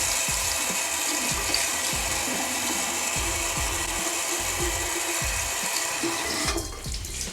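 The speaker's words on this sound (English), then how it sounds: "Then I'm going to add some water." Tap water runs steadily onto a makeup beauty sponge soaked with oil cleanser during cleaning, a continuous close splashing hiss with faint handling sounds, alone with no talk.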